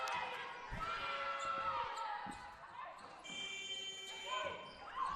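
A steady electronic shot clock buzzer sounds for about a second at a women's college basketball game against Benedictine, under a commentator's continuous play-by-play, with ball bounces and gym crowd noise around it.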